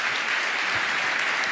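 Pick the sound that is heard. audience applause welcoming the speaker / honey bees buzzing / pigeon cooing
audience applause welcoming the speaker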